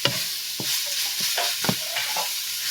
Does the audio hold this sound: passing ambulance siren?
no